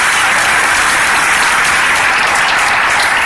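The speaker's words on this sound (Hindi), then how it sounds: "अच्छा लगे तो ताली बजाना" An audience at a motivational talk breaks into applause, a dense, loud and continuous clapping that holds steady throughout with no voices above it.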